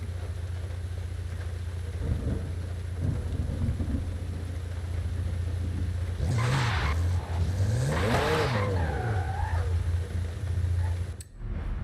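Car engines in the racing video game Forza Horizon 5, a steady low drone with a couple of surging revs and gear shifts partway through, fairly loud and with no talk over it.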